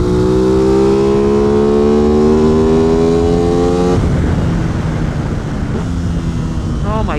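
An Aprilia RS660 motorcycle on a race track revs hard and close up, its engine note climbing steadily for several seconds before a shift drops it into a rougher roar with heavy wind rush.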